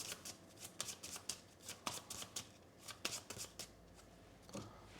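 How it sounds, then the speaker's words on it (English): Playing cards for the Aeon Trespass Odyssey board game are shuffled up close. About a dozen quick riffling bursts come in a steady rhythm, alone and fairly quiet. "So we're going to shuffle this into this."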